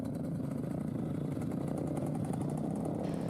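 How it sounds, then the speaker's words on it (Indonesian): Trail motorcycles run at a steady, dense drone on a hillside at Bukit Abeng, Tembalang, Semarang, a continuous mid-range engine buzz held without pause and no voices over it. "Deru suara motor trail terdengar di Bukit Abeng, Tembalang, Kota Semarang"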